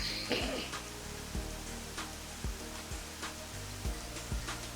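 Steady video-game rain hisses evenly, with scattered louder taps and a low background hum, fairly quiet and with no voices.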